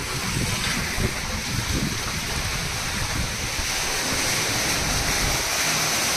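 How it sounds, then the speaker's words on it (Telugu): Rainwater gushes at full volume into an underground sump tank from a low-cost rainwater filter setup, a steady, loud, close rushing pour with no voices over it. "ఈ సంపులో ఫుల్ ఫ్లెడ్జ్ వాటర్ వస్తూ ఉంది. చూడండి, ఇంత వాల్యూమ్ వాటర్ వస్తుంది."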